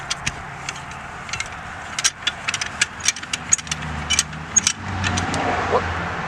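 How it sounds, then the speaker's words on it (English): Metallic clinks and ratcheting taps ring out close as a lug nut is loosened from a car wheel, irregular and sharp over a low engine-like rumble, with a voice speaking near the end. "there's your lug nut off."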